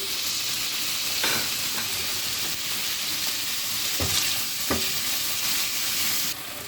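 Vegetables for mutton kabab sauté in a pan with a loud, continuous sizzle and hiss, broken by a few sharp scrapes and clacks of stirring; no one speaks.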